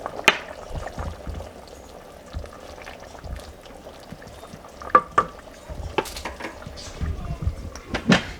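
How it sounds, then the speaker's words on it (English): Egg noodles stirred into chili in a cooking pot, with scattered scraping spoon clacks and soft wet sloshing at irregular intervals, near and moderately quiet, no talk. "I added the egg noodles to the chili"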